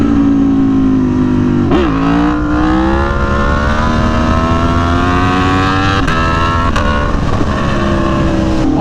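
A motorcycle engine in a MotoGP video game revving hard during wheelies, a loud, close, sustained whine that dips briefly and then climbs steadily in pitch, with short shifts in between.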